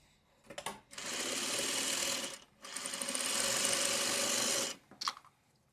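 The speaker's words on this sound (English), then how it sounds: "I will sew it on exactly like this." A home sewing machine stitches a quilt seam in two sustained runs of steady whirring, about 1.3 and 2 seconds long, with short clicks and handling noise between and after, close and moderately loud.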